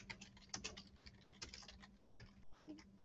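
Rapid typing on a computer keyboard while a custom comment note is entered in a Joomla K2 form, with dense, irregular clicking bursts and brief pauses, close and clear with no talking.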